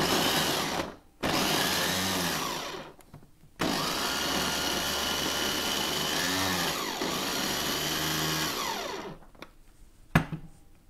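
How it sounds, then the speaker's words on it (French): Blender mixing kimchi sauce ingredients such as fish sauce, a loud motorized whirring roar that starts, cuts out briefly, restarts and runs for several seconds before stopping, with a few clunks at the end. "Now everything we put in the blender and we're mixing it."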